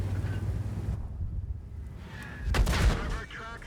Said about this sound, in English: God, I love artillery.